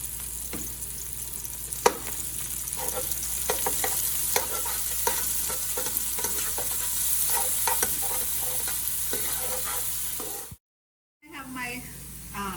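Garlic and green seasoning frying in a hot pot of oil, a steady sizzle with stirring clatter and scraping throughout, a brief silence near the end before sizzling resumes.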